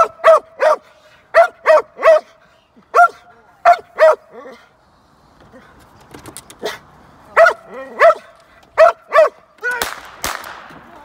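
A dog at a police carjacking training scenario barks repeatedly and loudly in short bursts, with yips and whimpering between volleys and a shouting voice near the end.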